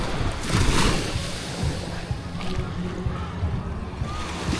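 Broadband rushing wash of surf rolling in steadily, with a low rumble and gusty wind noise throughout.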